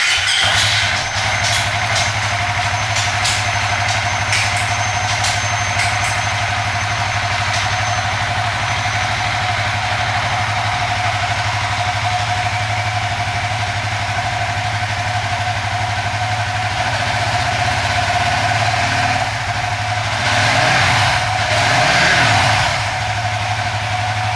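Suzuki FU 150 motorcycle engine idling as it warms up after an oil change, a steady close low chug held throughout, with a brief stir of higher revving and rattle near the end.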